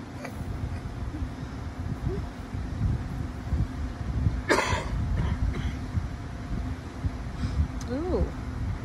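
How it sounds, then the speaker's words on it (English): A single sharp cough stands out midway through an outdoor scene of wind, rustling and low talking. "Ooh, that cough."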